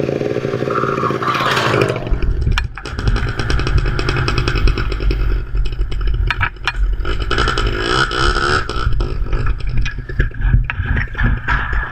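A motorcycle engine idles and revs continuously up close, smoky and rough, with clattering mechanical noise throughout and no talk.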